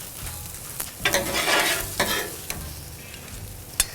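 Sausage jambalaya sizzles on a Blackstone griddle as a spoon stirs it in a few scraping strokes, with steady frying beneath and no talking.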